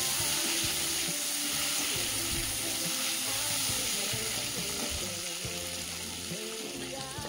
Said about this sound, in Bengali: যেটা সর্ষের তেল ছিল তার উপর একটু তেল দিয়ে ফুলকপিগুলো প্রথমে ভেজে নেব